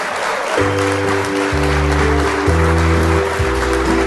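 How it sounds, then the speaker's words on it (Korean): Audience applause at a cherry-blossom song festival at Jikjisa temple in Gimcheon welcomes an invited singer, a steady clapping wash running under loud music with a deep bass line. "큰 박수 부탁드리겠습니다"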